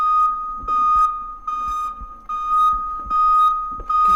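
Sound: fire alarm ringing in video game Minds Eyes

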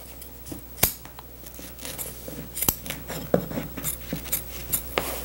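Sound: scissors trimming excess upholstery material

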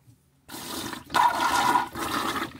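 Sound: water flushing through a rebuilt vintage Wilcox marine toilet

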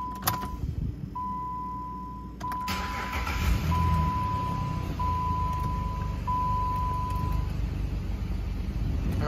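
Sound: 2012 Jeep Liberty engine started and idling

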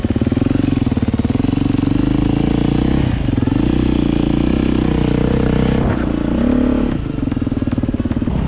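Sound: motorcycle engine riding

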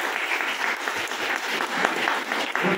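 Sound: clapping at teachers' workshop

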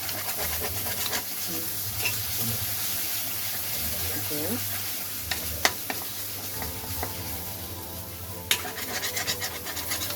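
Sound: sautéing ginger garlic masala with goat liver on low flame

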